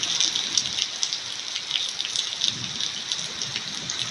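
Rain pours steadily, a close, constant hiss of drops striking surfaces with small splashy pops scattered through it, and no voices.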